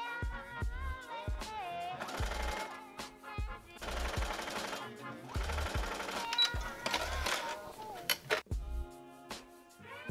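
A sewing machine bastes sheer fabric layers onto a lining, running in rapid mechanical bursts separated by short pauses, close and clear with faint talk in the background.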